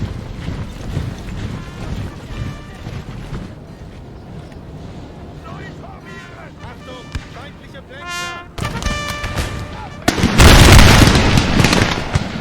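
Musket volleys in Napoleon: Total War, a sequence of sharp cracks and rumbling booms mixed with battle noise, ending in a loud burst of fire.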